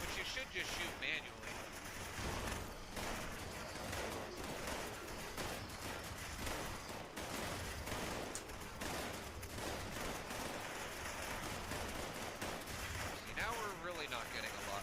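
Fallout 76 game gunfire crackles in dense, continuous bursts as players shoot enemies, with explosions mixed in, while a person talks over the action throughout.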